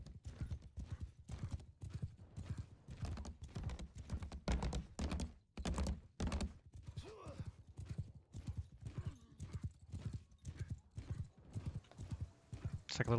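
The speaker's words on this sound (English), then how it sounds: "Actually, Trench, take that horse by the tree." Rapid, rhythmic hoof clip-clops from a galloping horse in a medieval multiplayer game, steady and quite faint, with quiet talking underneath.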